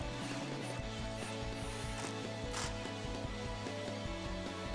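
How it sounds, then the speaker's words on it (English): A ratchet with a 13mm socket tightens exhaust clamps on a 2008-2014 Challenger 5.7L HEMI, giving a quick, steady run of close, rhythmic clicking. "Grab your 13mm socket and you'll tighten these down."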